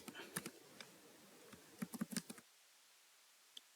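Computer keyboard typing while editing JavaScript code, a quick uneven burst of close, crisp key clicks that stops partway, followed by one last isolated tap.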